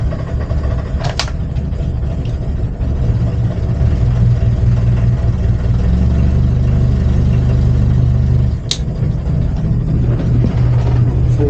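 Boat engine on a houseboat with an overheating problem idles steadily, a loud, close, low-pitched rumble that barely changes throughout, with a couple of brief knocks.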